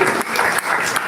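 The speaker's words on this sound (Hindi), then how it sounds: "पूनम के लिए जोरदार ताली बजाइए" Audience applause at a Navratri gathering at a Gayatri Shaktipeeth, a steady dense burst of clapping filling the whole moment without pause.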